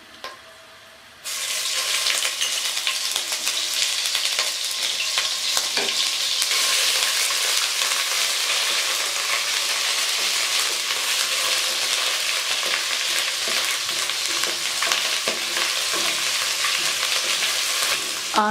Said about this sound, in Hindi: अब मैं इसे 2 मिनट तक इसी तरह फ्राई करूँगी।